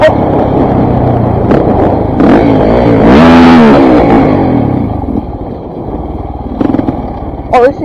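Dirt bike engine bogging as it runs out of fuel, a loud close engine note that surges and revs briefly before sputtering and fading, with wind noise and a rider's voice over it.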